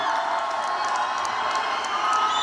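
Large crowd at a political rally in Reno, Nevada cheering and whooping continuously, a dense roar of many voices with scattered shouts, loud and sustained.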